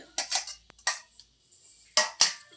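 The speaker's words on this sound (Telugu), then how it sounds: "అలా వేసుకొని మొత్తాన్ని అలా కలుపుకోవాలండి" Chopped tomatoes, green chillies, garlic and onions are mixed in a bowl, giving a few short bursts of spoon scraping and clinking against the dish, separated by quiet gaps.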